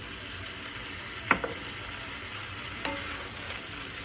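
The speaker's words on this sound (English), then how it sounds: "Stir it all around" Pork curry with corn and bamboo shoots stirred in a hot pot, a constant sizzling bed with two distinct knocks of the utensil against the pot, close and clear.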